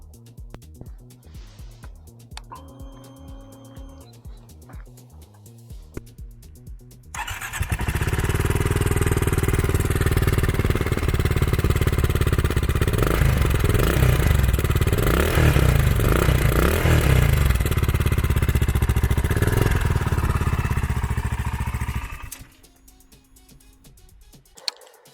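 A BSA Scrambler 650 single-cylinder motorcycle starts up after some clicking and fiddling, then runs for about fifteen seconds with a loud, thumping, slightly rough idle up close before cutting off abruptly.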